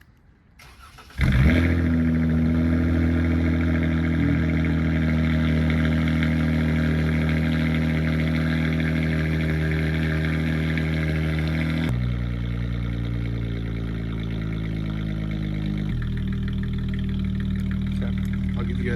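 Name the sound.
V6 car cold start with Solo Performance exhaust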